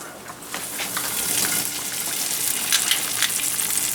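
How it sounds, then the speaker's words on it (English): Butter melting in a hot sauté pan makes a continuous hissy sizzle that swells slightly and holds steady, close and fairly quiet, with no talking. "you're gonna have your sauté pan hot, and we're gonna start with the butter"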